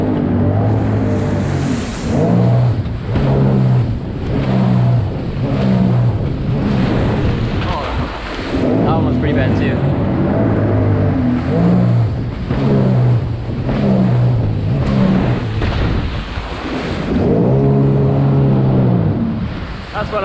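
A Sea-Doo Spark Trixx personal watercraft runs on open water, its engine rising and falling loud and close through repeated throttle bursts as it turns. Wind buffets the microphone and water splashes around it.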